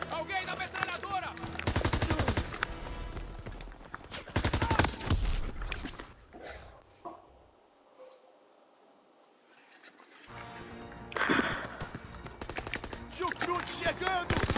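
Bursts of rapid automatic machine-gun fire from Call of Duty: WWII rattle loudly, pause for a quieter stretch, then resume in heavy volleys of battle noise.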